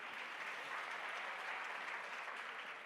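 An audience at an interview claps steadily, a soft, distant wash of continuous applause with no voices over it.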